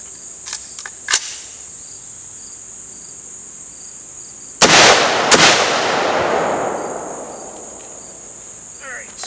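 Two loud gunshots from a .223 rifle fired outdoors at a stack of textbooks, the first booming with a long rolling echo and the second following quickly, over steady insect chirping, with a few faint clicks before.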